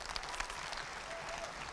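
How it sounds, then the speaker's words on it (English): Audience applause after a school beginning band concert, a short burst of steady, fairly distant clapping from the crowd. "So let's just give them one more round of applause."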